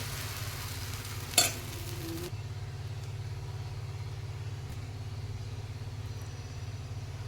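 Dosa batter hits a hot oiled tawa with a brief sharp splash, then a steady close sizzle that quiets partway through as frying settles under low background hum.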